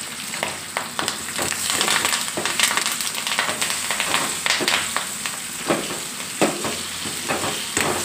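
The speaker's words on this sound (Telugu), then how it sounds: "పప్పు అయితే పోపు పెట్టుకుందాం." Tempering for gongura dal crackles in hot oil with onions, green chillies, dried red chillies, curry leaves and seasoning spices, a steady close sizzle broken by sharp pops and stirring clatter, with no talking.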